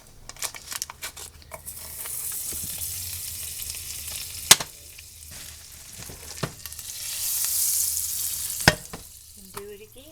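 A quesadilla frying in butter in a hot pan, an airy sizzle that swells twice with sharp utensil clicks and scrapes in between, close and fairly soft.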